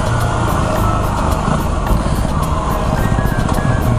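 A stock Yamaha WR250R motorcycle engine revs high with a racer-like tone, a loud, close, buzzing drone held at high RPM with slight rises and dips while riding.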